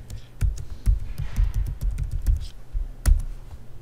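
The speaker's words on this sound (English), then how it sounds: "I was typing too fast." Rapid clicking of a computer keyboard as someone types quickly, irregular bursts of close key taps with a louder stroke near the end.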